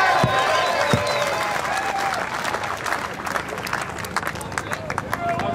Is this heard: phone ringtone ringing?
no